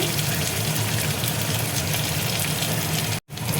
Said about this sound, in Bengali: অল্প করে দেখো জল দিয়ে দিচ্ছি, নাহলে মশলাটা পুড়ে যাবে।